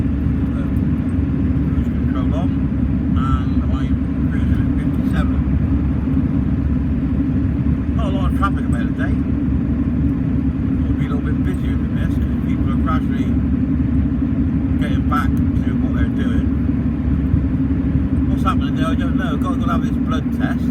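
Steady low engine and road drone from a car cruising on cruise control at about 57, continuous and even throughout, with someone talking over it.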